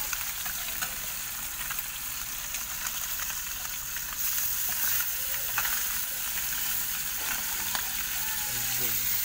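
Fish frying in a pan, a continuous hissing sizzle with faint scrapes and clicks, fairly quiet and steady, growing slightly louder partway through, with no speech.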